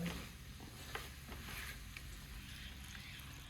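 Hot water is poured into a pan of cooking vegetables, giving a steady hissing sizzle and bubbling that opens loud and settles into an even simmer, close by, with no talking.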